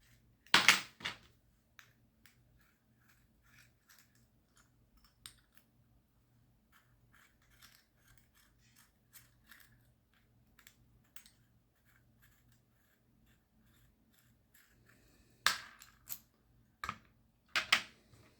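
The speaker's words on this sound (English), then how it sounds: "Now we're going to remove 3 screws on the trigger guard." Three screws are backed out of the trigger guard on a Metadyne Havoc Gen 2, giving sparse faint clicks and small metallic taps with a few sharper clatters at the start and near the end.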